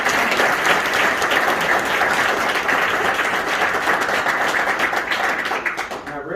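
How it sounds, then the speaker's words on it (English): Sustained applause from an audience at an awards ceremony honoring relay champions, a loud, even roar of many clapping hands that holds steady and eases slightly at the end. "Let's give them a big round of"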